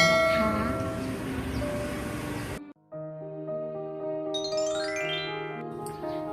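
A subscribe bell sound effect rings out clearly, a bright chime with long ringing tones and a rising jingle, after a stretch of dense music that cuts off sharply.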